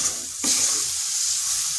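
Eggplant dish stirred in a pressure cooker with a little oil over a low flame, a steady close hiss of frying with a soft scrape partway through, no talking.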